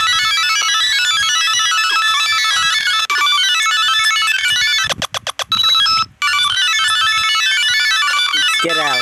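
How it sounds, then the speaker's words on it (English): Chiptune Pokemon Center music from the Pokemon Red video game plays as a bright, steady melody of beeping tones, broken by a brief burst of rapid blips and a short silent gap near the end. "Ah, the sound of Pokemon Center."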